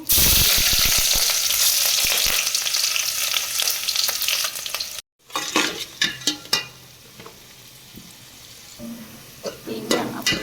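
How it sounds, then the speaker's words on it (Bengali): Onion with bay leaf, cinnamon and cardamom fries in hot oil, starting as a loud, dense sizzle before a brief break, then quieter crackling with scattered spatula scrapes and clinks against the pan. "পেঁয়াজটা ভাজা হয়ে গেছে"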